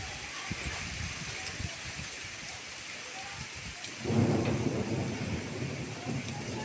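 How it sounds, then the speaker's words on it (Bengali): An approaching thunderstorm brings a constant rushing of wind and rain that swells noticeably louder partway through, with a low rumble underneath. "ঝড় আসছে"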